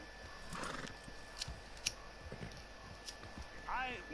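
Horse in the Red Dead Redemption 2 video game, with scattered hoof clops and a short whinny near the end, quiet and close, alongside some faint game sounds.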